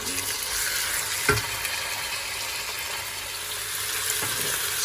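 Chopped chicken sizzles and fries in a pan for stir fry noodles, a steady loud crackling hiss with a couple of brief scraping stirs, no talk.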